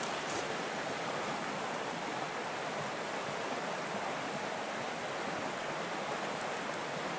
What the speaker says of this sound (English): I'm standing on the edge of the brook right now